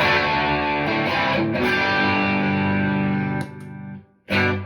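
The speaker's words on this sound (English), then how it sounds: "Fender with a bit of distortion." Electric guitar played through a Fender amp model on a Blackstar Amped2 with light distortion, sustained chords ringing loud and alone, then a brief cut and a final struck chord.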